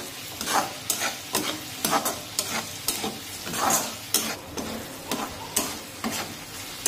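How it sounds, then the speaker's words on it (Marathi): Tomato being stirred in a frying pan for a dried-fish (sukat) chutney, cooking down until soft: a steady sizzle runs underneath while a spoon scrapes the pan in regular, repeated strokes, close and clear with no talking. "आणि आता हा टोमॅटो सुद्धा मऊ होईपर्यंत शिजून घेऊ।"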